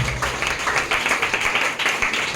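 A church congregation claps its hands together in a steady rhythmic beat, a moderately loud, even stream of claps lasting a couple of seconds.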